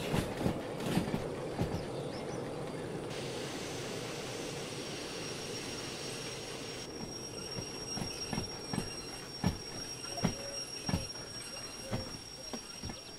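An S282 steam locomotive in the Derail Valley train simulator brakes as it approaches a junction, giving a steady rolling rumble with a run of sharp rhythmic clicks and knocks from the wheels. No voices are heard.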